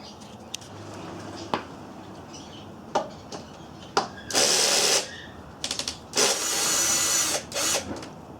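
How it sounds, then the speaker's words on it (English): Seat bolts on a Kawasaki Ninja 250R loosened with a hand ratchet: sharp single clicks, then two longer bursts of rapid close ratcheting, with scattered metallic taps between. "Let's just remove both of those bolts there."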